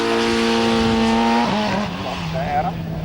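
Yamaha-powered hillclimb race car at the 1994 Australian Hillclimb Championships at Collingrove, its high engine note pulling hard and then shifting and dropping as it climbs the course, loud and steady.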